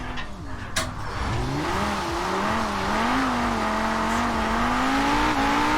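An Audi RS2 drifts in Forza Horizon 4, its engine revving hard and climbing in pitch through a long sustained slide, loud and close.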